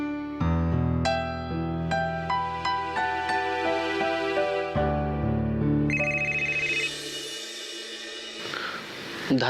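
A phone rings with an incoming call, its melodic electronic ringtone playing loudly and continuously with repeating tonal notes for several seconds, with no talking.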